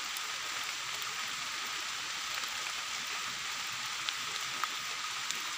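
Rain falls steadily on a forest during mushroom picking, a constant bright hiss of drops with occasional sharper individual drips landing close by, and no talking.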